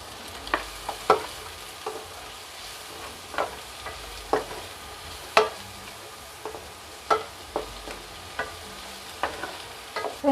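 Chopped onion sautés in a pan for pork menudo, a soft steady sizzle punctuated by a dozen or so sharp scraping stirs at uneven intervals, quiet and close with no talking.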